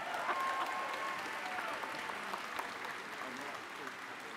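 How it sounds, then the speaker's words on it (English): Audience applause at a university commencement, a steady wash of many hands clapping at moderate distance, sustained evenly throughout, with faint voices mixed in. "can we give Dr. Miller a round of applause"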